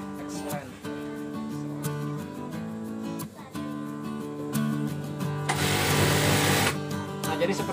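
Sewing machine stitching a ruffle onto fabric, its motor whirring in steady runs with brief pauses between them and a louder burst near the end, while someone talks over the sewing.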